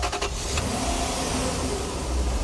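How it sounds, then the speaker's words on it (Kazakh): A car engine runs steadily and close at a used-car market in Aktau, holding an even, rough drone throughout with no talking. "Мына мотор тек сипалағын келе береді екен."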